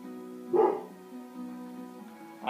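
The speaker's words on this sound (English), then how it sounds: "I have no idea why my dog is barking out there right now." A dog barks outdoors, heard faintly and at a distance behind a steady hum: one brief louder bark burst, then quieter yips toward the end.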